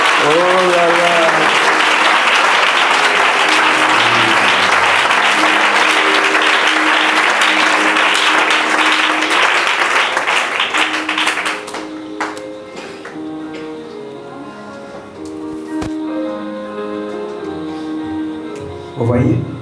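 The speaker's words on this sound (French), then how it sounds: "On acclame Jésus." A church congregation bursts into loud, sustained applause acclaiming Jesus, the clapping dense and continuous for about twelve seconds before thinning out beneath voices and background music.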